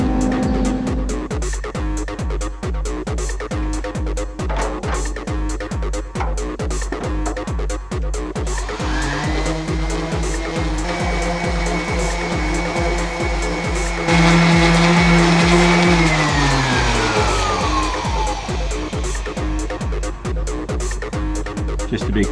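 A power grinder strips layers of old paint from the fenders of a 1969 VW Bug, a steady loud whine with a rhythmic pulsing beat and rising, shifting pitch as the tool bites into the metal, with no talk.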